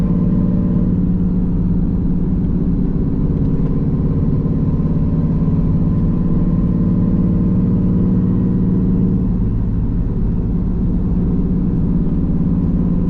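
A cammed Pontiac Trans Am's exhaust, cutouts open and dumping midway under the car, rumbles continuously with a steady, throaty, low droning tone, like an engine idling or cruising evenly, heard from inside the car.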